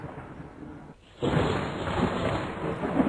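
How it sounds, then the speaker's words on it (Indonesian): Thunder and rain: a low rumble under light steady noise briefly drops away, then a heavy rush of rain with rolling thunder swells up and carries on loudly to the end. "sebentar lagi akan turun hujan"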